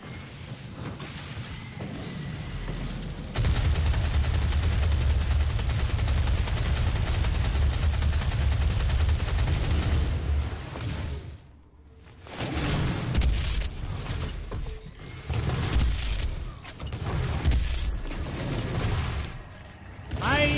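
Assault rifle in the video game Doom firing in long, loud sustained bursts with booming impacts, pausing briefly before another stretch of rapid fire.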